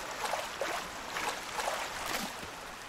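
A river flows steadily in the dinosaur survival game The Isle, a continuous rushing, gurgling wash of water that stays fairly loud and close throughout with no talk over it.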